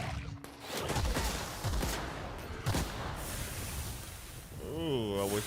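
Gunfire from the video game The Outer Worlds crackles in bursts under a busy, noisy game soundscape, with a sweeping whine of a game effect near the end.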